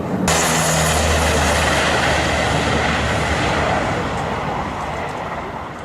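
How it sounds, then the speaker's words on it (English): An airplane roars loudly and continuously as it accelerates down a dirt-covered runway and lifts off, the broad engine noise easing slightly toward the end. "the plane was still able to accelerate and take off spectacularly"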